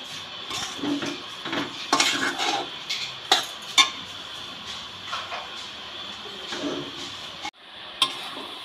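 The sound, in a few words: stirring grated coconut with jaggery in a pan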